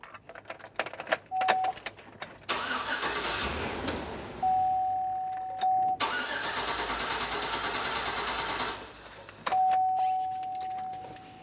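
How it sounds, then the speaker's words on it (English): A 2000-2006 Chevrolet Tahoe engine cranks without fuel pressure, a rapid whirring starter churn repeated in three separate bursts of several seconds each, close and fairly loud, with a chime sounding between attempts. "Otherwise, it's just going to crank, crank, crank."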